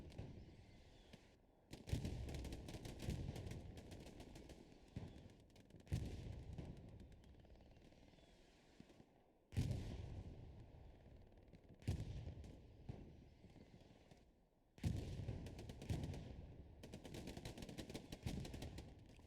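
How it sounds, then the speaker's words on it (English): Artillery and gunfire in the video game Hell Let Loose: dense bursts of rifle and machine-gun fire mixed with heavy booming impacts, coming in loud waves separated by brief quiet gaps. "Getting killed by artillery and just gunfire as soon as they push out of their OPs."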